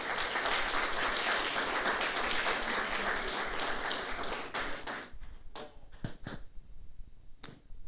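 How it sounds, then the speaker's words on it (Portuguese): A church congregation at a worship service applauds, a dense round of clapping that thins out after about five seconds into scattered individual claps. "Olha para alguém e aplaude a vida dela aí, em nome de Jesus."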